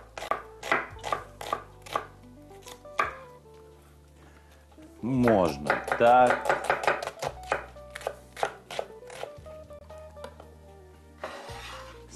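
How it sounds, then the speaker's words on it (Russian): Steady rhythmic knife chopping of an onion on a board, close and brisk, with a short spoken remark partway through. "А мы заберем лук. Порежем его."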